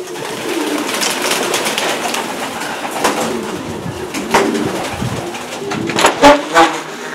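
Racing pigeons coo softly and continuously in a loft, low murmuring calls layered together, with a few sharper flutters and knocks near the end.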